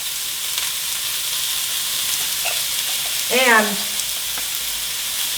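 Seasoned ground pork frying in oil for moo shu pork, a loud continuous hiss of sizzling close by, with a brief spoken word and a short vocal sound partway through.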